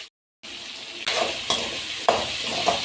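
Three chopped tomatoes hit hot oil in a pan while making tiffin sambar. After a brief silence a steady sizzle and frying hiss builds, with sharper bursts as the pieces are added and stirred, close and fairly loud.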